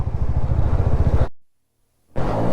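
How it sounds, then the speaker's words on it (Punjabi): A motorcycle engine revs hard as the bike sits stuck at a water crossing on the road to Chandratal Lake in Spiti. The loud, close engine roar cuts out completely for a moment, then surges back. "ਉੱਥੇ ਮੋਟਰਸਾਈਕਲ ਫਸ ਗਿਆ ਮੁੰਡੇ ਦਾ"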